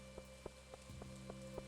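Rain falling in a video game, a steady soft wash of drops under a constant electronic hum, with a few regular faint taps roughly every quarter second.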